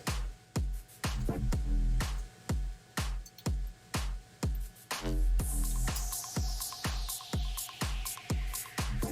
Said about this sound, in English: that's my printer doing a self-clean